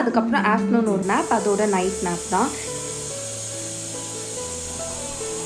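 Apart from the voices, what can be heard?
white noise played on Alexa smart speaker for sleeping baby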